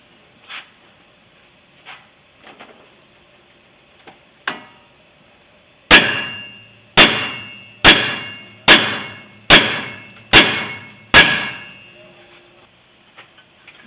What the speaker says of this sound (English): I'm going to hit it right here.